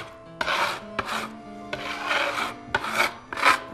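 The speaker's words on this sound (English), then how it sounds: "I'll scrape this up." A bench scraper scrapes dough off a floured work surface in five close, rasping strokes of uneven length, each separated by a short pause.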